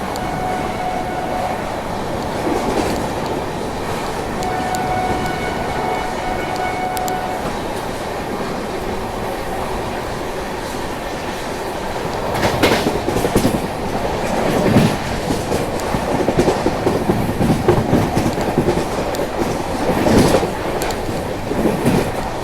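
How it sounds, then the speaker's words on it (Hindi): The Jammu Mail passenger train runs through Shikohabad Junction without stopping, a loud continuous rumble with rhythmic clickety-clack of wheels on rail joints, growing rougher toward the end. "अपनी ट्रेन अभी स्किप कर रही है शिकोहाबाद जंक्शन रेलवे स्टेशन को"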